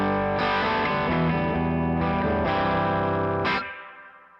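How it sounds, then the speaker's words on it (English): Electric guitar through a spring reverb pedal plays sustained chords with a few changes, the last strum around three and a half seconds ringing out and fading with a short reverb tail, with no talk. "Little reverb."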